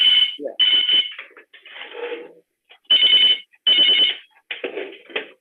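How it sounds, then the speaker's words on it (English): A telephone rings in repeated bursts of a bright electronic ringtone, loud and close, with short pauses between rings and some speech mixed in. "I think some ring is ringing somewhere."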